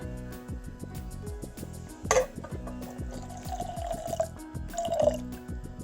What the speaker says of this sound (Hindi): अब इसमें ठंडा पानी ऐड करते हैं।